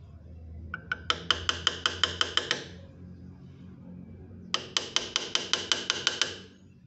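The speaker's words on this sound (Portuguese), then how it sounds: "Que é a hora triste da regulagem. Ajuda esse martelinho." A small hammer taps on the cutting assembly of a gleaner to adjust it, in two quick runs of about ten sharp, evenly spaced metallic strikes separated by a pause, close and clear.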